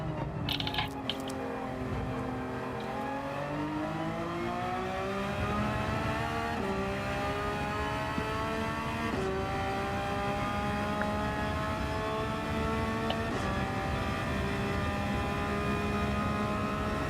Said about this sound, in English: See how we go with a couple laps in the Porsche.